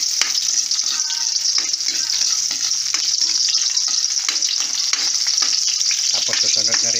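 Onion added to garlic sautéing in a pan for a mung sprout and bitter gourd dish: a steady, bright sizzle of frying with small crackles and stirring clatter, close up and constant, with no talking.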